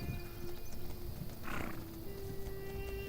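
A horse whinnies and snorts in a video game near a bandit camp, a brief neigh rising over steady game ambience and low background noise.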